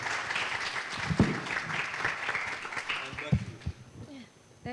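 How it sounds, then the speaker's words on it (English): Conference audience clapping for the speakers, a round of applause that rises and thins out, with a voice talking over it and some nearby thumps and mic handling near the end. "please give just our speakers a round of applause for their contribution"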